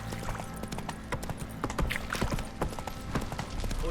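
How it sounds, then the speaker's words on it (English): Horse hooves clop rapidly in a galloping rhythm in the video game The Witcher 3 on Xbox One, close and clear, with faint background sounds. "Run, Roach."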